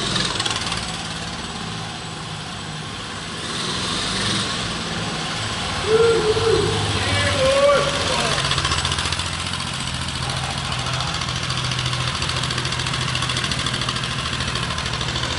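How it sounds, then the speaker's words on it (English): The small engine of a 1972 Rupp Hustler minibike with a TC1 torque converter runs steadily at a rough idle, loud and near, with a faint brief squeak in the middle and no talking. "The Rupp Hustler, the legendary TC1 torque converter."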